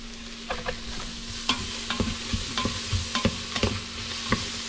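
Onions sautéing in a pot for healing soup, a soft continuous sizzle broken by repeated sharp scrapes and taps of a spoon stirring against the pot, close and without any talking.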